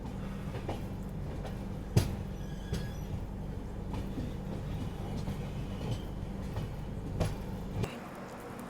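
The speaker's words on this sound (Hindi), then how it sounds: "चलिए फिलहाल गोधरा जंक्शन रेलवे स्टेशन अपनी ट्रेन एंट्री ले रही है।" A passenger train rolls into Godhra Junction station at night, a steady low rumble of wheels and carriages with a few sharp clanks and squeals standing out over the continuous rail noise.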